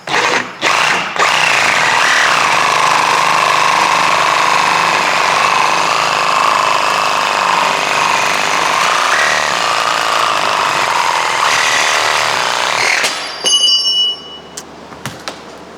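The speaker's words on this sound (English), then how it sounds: "You don't have to have a power saw like I do" A power saw cuts through the metal of a shepherd's hook, a loud, steady grinding whine running unbroken for about twelve seconds before winding down with a few clinks and rattles near the end.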